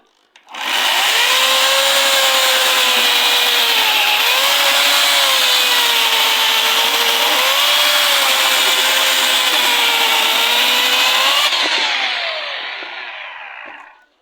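An electric saw with weak teeth drones steadily through firewood for about thirteen seconds, its pitch dipping and rising as it bites, then winding down at the end.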